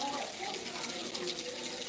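Light, slow rain falls in Khambha near Gir, a soft, continuous wash of watery hiss holding at an even level throughout.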